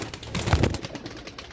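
Soft pigeon cooing and fluttery bird sounds, fairly close, with a low murmur of movement underneath.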